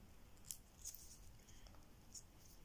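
Scissors snipping paper during a children's craft project, a few quiet, brief crisp cuts spread over a faint, near-silent room background.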